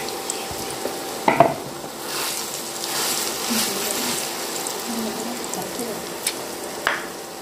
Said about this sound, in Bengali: এখন আমরা দিয়ে দেব সিম বাটা।